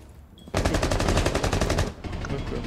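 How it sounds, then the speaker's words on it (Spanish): Rapid automatic gunfire in a ranked match of Rainbow Six Siege, a loud sustained burst of closely spaced shots lasting about a second and a half, then quieter game noise. "Disparo desde el bridge."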